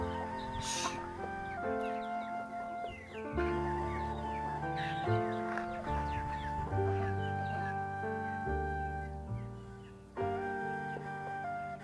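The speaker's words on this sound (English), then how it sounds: "I continued to feed the chicken." Chickens on a rural Vietnamese farm cluck and squawk while being fed, several birds calling close by in overlapping bursts that continue steadily throughout.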